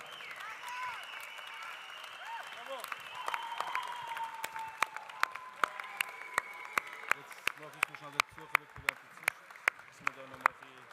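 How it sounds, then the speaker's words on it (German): Applause for latte art competitors at the Swiss Coffee Festival, a sustained crowd clapping over background chatter that settles into sparse, distinct individual claps toward the end. "Großen Applaus nochmal für unsere Latte-Artisten."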